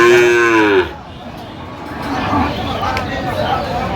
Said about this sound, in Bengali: সুন্দর এক গাভী বাছুর আপনার দেখছিলাম